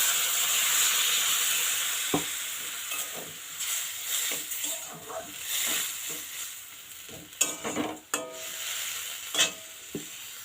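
Water poured into frying soya chunk masala flavoured with cumin and chilli powder, a close sizzling hiss that rises and falls as a spoon stirs and scrapes the pan, with sharp clinks and bubbling bursts, no talking.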